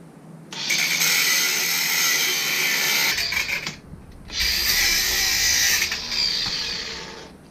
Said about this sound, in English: we're going to cut this bolt off